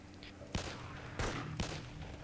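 Gunfire in the video game DayZ: three sharp shots spaced out over a couple of seconds, cutting through low background noise, fairly close.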